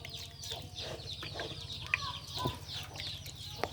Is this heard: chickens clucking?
yes